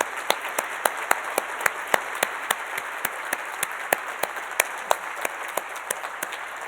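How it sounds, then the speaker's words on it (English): An audience at the DevDays 2024 plenary panel applauds the panelists, sounding as a steady, fairly thin patter of claps with clear individual hits that lasts nearly seven seconds without talk. "I want to give a big round of applause to the whole panel"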